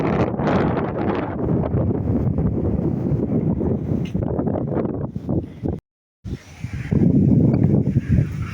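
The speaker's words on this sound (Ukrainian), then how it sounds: "Вітер, вітер дує." Gusting wind roars and rustles against the microphone, steady and close, with a brief dropout before it resumes.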